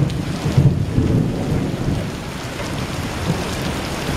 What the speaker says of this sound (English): Thunder's still pretty distant